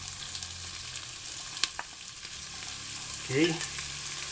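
Onion and garlic sizzle steadily in pork lard in a pan, a close, soft frying hiss with a brief stirring clatter near the end and a short spoken word.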